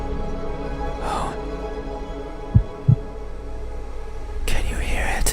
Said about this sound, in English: it's called a heartbeat.